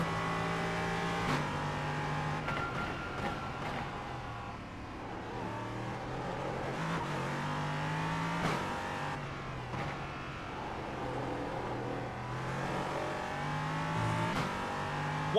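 A race car engine in a racing video game revs hard and continuously, its pitch climbing and dropping with the throttle, with the occasional brief tire squeal and no talking.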